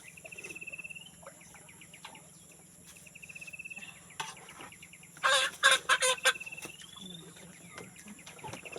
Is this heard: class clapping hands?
no